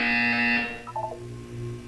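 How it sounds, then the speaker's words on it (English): A loud, harsh electronic buzzer from the video game Portal 2 sounds for about half a second, then cuts off and leaves a low, humming test-chamber ambience with faint tonal blips. "When you hear the buzzer, look down at the floor."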